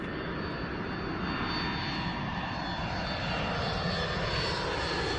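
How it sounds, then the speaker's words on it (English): A loud airplane engine roars continuously during takeoff, a dense steady drone heard from inside the cabin near the wing. "Very loud plane."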